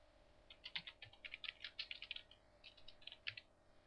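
Quiet keystrokes on a computer keyboard typing a post, soft irregular clicks in quick bursts with brief pauses, nearby and faint over low room hum.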